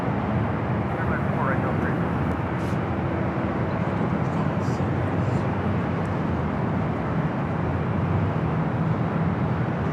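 A plane arriving from Anchorage at LAX approaches with a steady, moderately loud engine roar and rushing noise that holds throughout, while a person talks over it.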